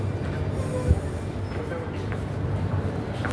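A train rumbles at a station platform, a steady low mechanical roar with a brief louder thump near the start, while people talk faintly in the background.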